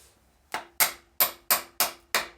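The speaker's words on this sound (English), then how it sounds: "the general consensus is that you tap this with a hammer" Six sharp, ringing hammer taps on a part of a Morris Minor A-Series 1098cc engine during strip-down, evenly spaced after a brief pause, each decaying quickly.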